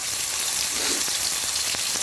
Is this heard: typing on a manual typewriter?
no